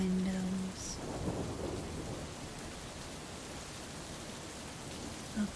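Steady rain falling on a hillside house with a porch and stone chimney under large trees, with a soft rumble of thunder early on and a brief drip or knock near the end.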